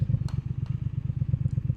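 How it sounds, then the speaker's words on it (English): Triumph Speed Twin 1200 motorcycle exhaust while riding, a steady low pulsing burble with rhythmic throbs and light clattery overtones, close and continuous with no other sounds. "We're getting some good exhaust tunes coming out now."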